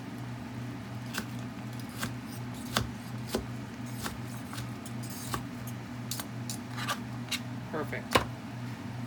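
Knife chopping food into cubes for chicken soup on a cutting board, with a series of sharp, evenly spaced taps over a steady low kitchen hum.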